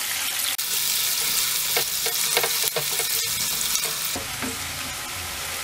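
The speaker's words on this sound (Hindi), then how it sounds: "ऑयल गर्म हो जाए तो इसमें हम प्याज फ्राई करेंगे।" Finely sliced onion fries in hot oil, a loud, close, steady sizzle with crackling and a few stirring scrapes running throughout.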